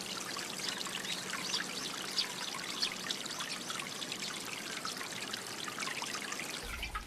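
Water running along a channel through a Japanese village, a steady close babble and trickle that stays even and continuous throughout with no voices.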